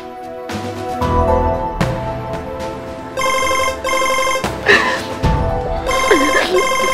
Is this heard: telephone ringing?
yes